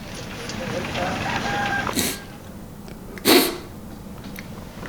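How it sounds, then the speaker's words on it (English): Chickens packed aboard a crowded vehicle in rural Laos, with a faint rooster-like crow and scattered clucks rising over the background rumble, plus two short sharp bursts nearby. "This thing is stuffed full of chickens."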